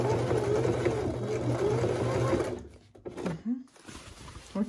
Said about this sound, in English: at the end, I will just stitch, straight stitching almost at the one spot